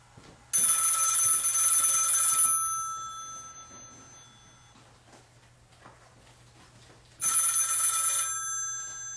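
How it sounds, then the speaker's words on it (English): A telephone bell rings loudly in two bursts, one early and one near the end, with a quieter stretch between them and no talking. "I think the phone's ringing. I hear it now."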